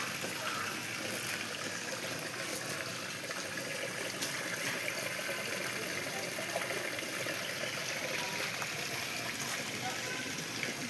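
Water rushes steadily through a pump's motor line while its filter is backwashed, a continuous broadband gush that holds at an even level from start to finish.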